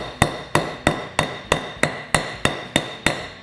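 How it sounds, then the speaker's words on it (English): A hammer beats on a John Deere lawn tractor steering wheel bushing: ten sharp metallic blows, evenly spaced about a third of a second apart, loud and close, each ringing briefly before the next, with no talking. "take your hammer,"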